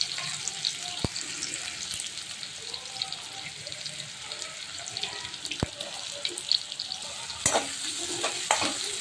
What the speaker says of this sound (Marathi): जिरे तडकले आता आपण इथे कांदा ॲड करायचा